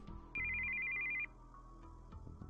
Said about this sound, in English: I heard the sound of an incoming call on his cell phone.